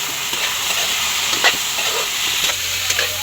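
Tofu stir-fried in a hot pan with oyster sauce for vegetable lumpia, a loud steady sizzle with scraping stirring strokes throughout.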